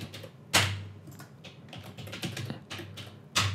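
Rapid clacking on a computer keyboard, with several louder key strikes standing out among softer taps, close and clear, no voices.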